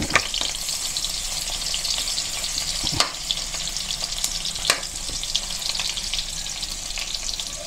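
Onion and garlic sizzle steadily in a pan, with a bright continuous frying hiss broken by a few sharp utensil clicks.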